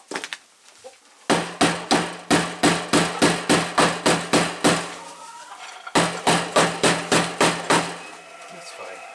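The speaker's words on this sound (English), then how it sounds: "This one you have to hammer in." Hammer blows driving wooden pieces into a chicken roost under construction, two bursts of rapid, evenly spaced strikes close by, separated by a short pause, with faint voices at the start.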